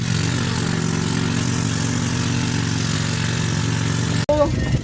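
A motorboat engine drones steadily while towing a boat across the sea, a constant low throbbing hum close by, cut off abruptly near the end by a brief burst of voices.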